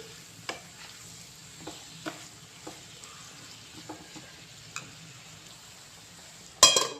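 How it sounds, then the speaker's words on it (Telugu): Ivy gourd and ginger fry in a pan: a spatula scrapes and clicks in irregular strokes over a soft, steady sizzle, ending with a louder clatter. "ఇవన్నీ బాగా కలిపేసుకొని ఎంత బాగా వేస్తే అంత బాగుంటుంది"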